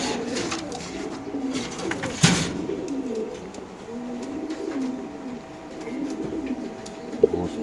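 Racer pigeons coo in soft repeated rolling calls from a coop nearby, with a sharp knock partway through and quiet background noise.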